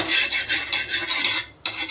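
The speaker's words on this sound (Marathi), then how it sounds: "थोडंसं साफ करून घेऊया." A hot iron griddle (tawa) scraped clean in a Khandeshi home kitchen after flatbread is cooked on it: a string of quick, close, rhythmic rasping strokes, then a short pause before another stroke.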